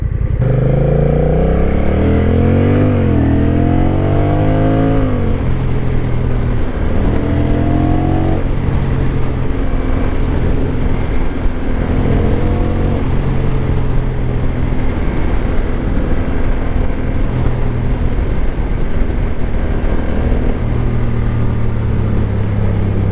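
Honda Rebel motorcycle with dual-clutch transmission riding on the road, engine revving up through quick gear shifts then settling into a steady drone with wind rush, loud and close.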